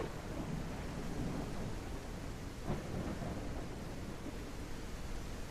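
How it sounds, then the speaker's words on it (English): Thunderstorm in the video game The Isle Evrima: steady, dense rain hiss with low rolling rumbles and a sharper thunder crack partway through, loud and continuous with no talking. "So I feel like I'm trying to yell over the storm."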